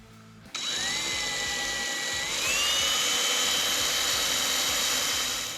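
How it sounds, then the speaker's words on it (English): A power drill bores quarter-inch holes in fog light mounts for a 2023 Colorado with a loud, steady whine that starts abruptly and then rises in pitch partway through, with no talking. "I'm gonna take our drill here and just go roughly"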